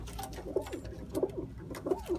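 Punjabi high-flying pigeons coo close by inside a cage in soft, repeated throaty calls, about three rounds in quick succession against faint background noise.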